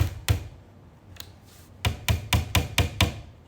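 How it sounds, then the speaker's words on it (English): Hammer blows driving nails into the thin back panel of an IKEA BRIMNES cabinet, one strike, a faint tap, then a steady run of six sharp, close knocks in quick rhythm. "you put a nail inside of it, squeeze it, and then use your hammer."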